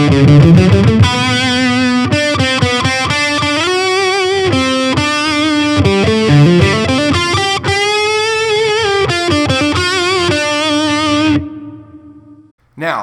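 Electric guitar played through a Fender Champion 40 amp on the British Yellow channel with hall reverb, treble at 6 and bass at 10: a distorted hard-rock lead line with sustained bent notes and quick runs, ending in a ringing reverb tail.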